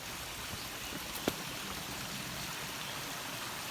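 Jim Yai waterfall at Ban Khao Phluang in Phetchabun pours as a steady, broadband rush of flowing water, with a brief sharp tap near the middle.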